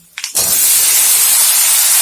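Potatoes dropped into hot oil already frying with onion and chilli burst into a loud, steady sizzle that holds strong after a brief clatter at the start.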